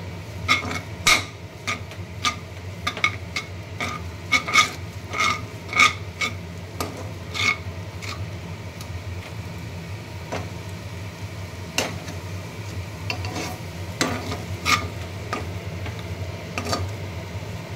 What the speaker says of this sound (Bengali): চালের গুঁড়িটা দিয়ে একটু ভাজলে হয়ে যাবে